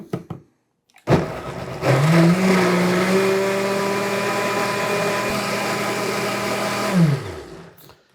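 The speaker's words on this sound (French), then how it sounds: "C'est sûr qu'il faut broyer les épinards." A countertop blender grinds spinach for waffle batter: a click, then a loud motor whine that rises and holds steady near the mic for several seconds before winding down, no speech.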